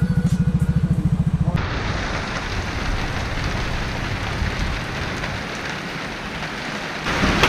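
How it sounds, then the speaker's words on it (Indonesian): Sudden heavy rain pours down at a fishing spot, a dense, loud hiss of drops on surfaces that starts abruptly after a rhythmic engine-like pulsing and holds steady to the end. "tapi ternyata tiba-tiba hujan turun"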